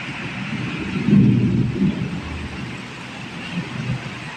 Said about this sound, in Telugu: మాకు ఉరుముతుంది, పెద్ద పెద్ద ఉరుములు వస్తున్నాయి.